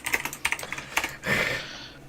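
Rapid, uneven clicking of keys being typed on a loud mechanical computer keyboard, close and clear, ending in a short burst of louder rustle.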